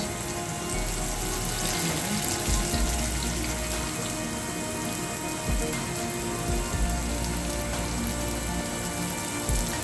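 Pişi dough fries in a pan on low heat, a continuous crackling sizzle like steady rain, fairly loud and close, with no voice over it.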